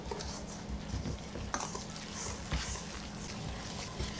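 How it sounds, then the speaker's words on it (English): Cornbread batter with milk and butter is stirred in a bowl, giving soft, wet scraping and rhythmic sloshing, with a few clicks of the utensil against the bowl and no talking. "just gonna mix it"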